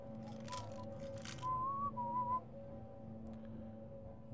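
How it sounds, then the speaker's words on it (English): Someone whistles in the video game Half-Life, a few faint short melodic notes over a low humming ambient background, with no talking. "Why are you whistling?"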